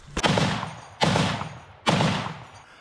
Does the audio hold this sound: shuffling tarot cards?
no